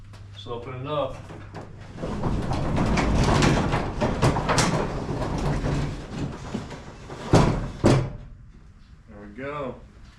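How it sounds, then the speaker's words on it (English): A garage door rolls open near at hand, a long rumbling, rattling run of several seconds followed by a couple of heavier clunks; brief talk comes before and after it. "open the door"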